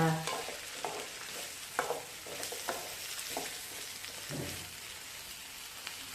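Vegetables for bajji fry in a pan with a soft steady sizzle, broken by several scraping stirs of a spatula, fairly quiet and close.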